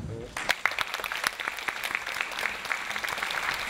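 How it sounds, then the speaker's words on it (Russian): Audience applause at a film festival award ceremony for a short documentary, starting after a brief voice and building into dense, uneven clapping from a crowd that continues to the end. "ваши аплодисменты"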